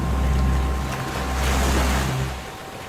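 Sea waves washing steadily around a seashore temple as the tide rises, a continuous close surf roar with wind buffeting the microphone and no voices.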